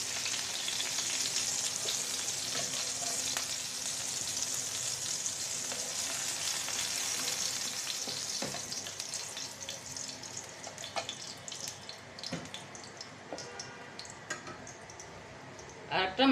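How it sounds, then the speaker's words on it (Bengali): Fish fry in hot oil in a home kitchen, a steady broadband sizzle that goes on throughout and thins slightly toward the end, with occasional clinks. "মাছগুলো ভাজা হয়ে গেছে"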